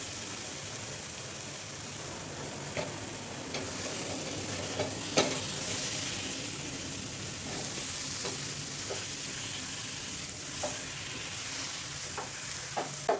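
A thick carrot barfi mixture is stirred in a pan with soft scrapes and occasional sharper clicks over a continuous low sizzle.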